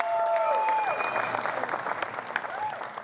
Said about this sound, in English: Can I get a round of applause for my baby girl?